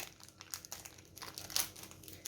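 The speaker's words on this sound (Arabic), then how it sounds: "عندي هنا كيس خميرة كامل" A packet of yeast handled in a home kitchen, giving soft, irregular crinkles and crackles of thin packaging, close and quiet with a sharper crunch midway and no talk.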